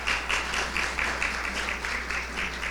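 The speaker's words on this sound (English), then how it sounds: "A big round of applause," A seated audience at a Hamilton High School event applauds an NJROTC presentation, a steady, fairly faint wash of many hands clapping in a large room with a low hum beneath.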